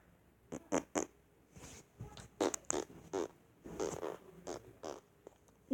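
A person imitating a fart with the mouth, a series of short sputtering bursts in an irregular rhythm, close and fairly loud, with no speech.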